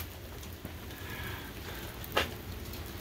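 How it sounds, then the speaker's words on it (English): Rain falls all day on an outdoor sawmill yard, a soft, steady hiss of drops under one or two faint taps, with no one speaking. "Unfortunately, it's raining here again."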